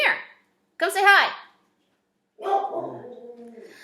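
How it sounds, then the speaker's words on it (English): A hound dog giving short whining yelps and whimpers outdoors near a river trail, close and loud, in two separate bursts with silence between. "Sorry, it's my hound dog."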